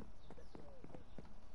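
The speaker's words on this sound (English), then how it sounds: "Horses." Horses clip-clop in a video game, with several light, quick hoof knocks in an irregular rhythm over game background noise and a faint voice.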